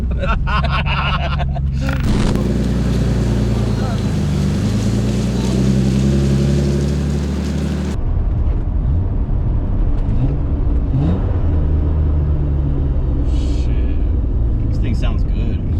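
A loud vintage car engine rumbles and revs steadily, its pitch rising and falling, then drops to a rougher idle with people talking over it.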